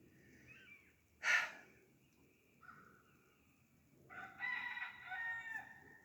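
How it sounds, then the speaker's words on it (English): A rooster crows outdoors, one loud burst followed by a longer drawn-out cock-a-doodle-doo a few seconds later, with a faint quieter call between and a soft background hum; no talking. "That was the rooster who crowed."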